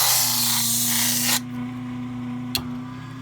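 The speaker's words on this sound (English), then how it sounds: "Now we're going to take it on our grinding wheel," A grinding wheel grinds the edges of a rear foot post, a loud abrasive hiss for over a second that cuts off, leaving the motor's steady hum, then one brief scraping touch.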